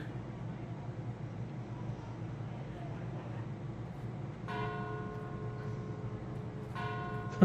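In a video game, bells ring out over a low rumbling background: one clear chime strikes midway and rings on with a sustained tone, then a second strike near the end.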